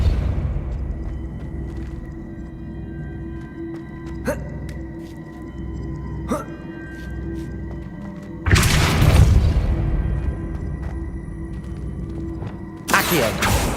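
Depulso force spell in Hogwarts Legacy: over quiet game ambience with a few light clicks, a loud booming blast erupts, fades, and a second burst hits at the very end.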